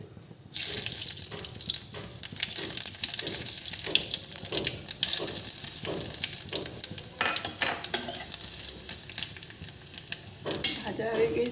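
Small fish for a Bengali achari curry fry hard in a pan, a steady loud sizzle with rhythmic stirring scrapes and clatters throughout.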